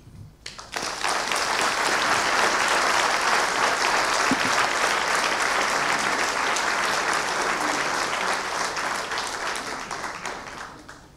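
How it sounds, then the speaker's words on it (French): A large audience at a university's 50th anniversary ceremony breaks into vigorous applause, loud, dense and sustained clapping from many hands that starts abruptly and holds for about ten seconds before tapering off. "J'espère que vous avez noté tous les applaudissements vigoureux au deuxième rang"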